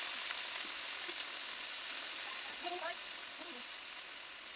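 Eggs frying sunny side up in a pan give off a faint, steady sizzling hiss throughout, with a soft voice barely audible underneath.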